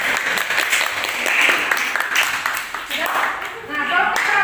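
A classroom of middle school students applauds after a group presentation, steady dense clapping filling the room for several seconds with a teacher's voice over it.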